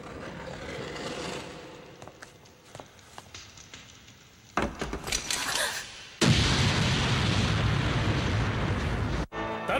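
An explosion in an anime bursts in as a sudden loud roar after quieter rumbles, swelling into a sustained blast that cuts off near the end.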